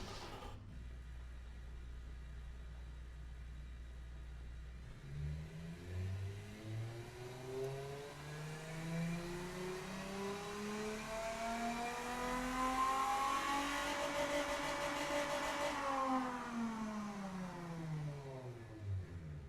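A 1996 Edison Constellation engine in the Automation game, a short-cast V8-style unit with dual exhaust, three-way cat and reverse flow, cranks and starts, then revs up steadily to a loud high peak before dropping back, with no talk.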